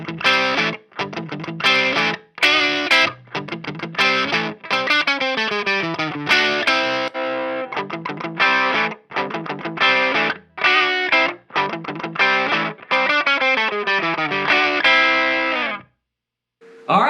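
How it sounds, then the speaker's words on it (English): Overdriven electric guitar plays loud, gritty riffs and chords through a Peavey 6505+ or Mesa Boogie Badlander clean channel boosted by a Tube Screamer Mini, with short choppy pauses between phrases before it stops briefly near the end. "use the Tube Screamer Mini to boost both the clean channels"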